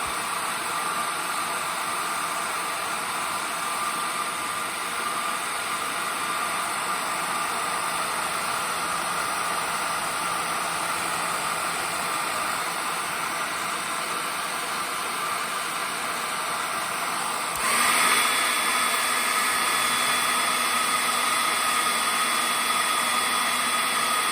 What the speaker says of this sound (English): Just use a hairdryer to dry this stuff fast.